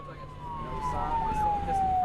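A wailing emergency vehicle siren, likely a fire apparatus, sweeps slowly downward in pitch, faint and distant under background noise.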